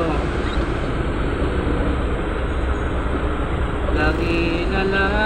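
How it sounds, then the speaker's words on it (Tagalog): Heavy road traffic at Quezon City Circle, a dense and steady roar of engines and rolling vehicles heard up close, with a horn-like tone near the end and a voice speaking over it. "Traffic talaga dito."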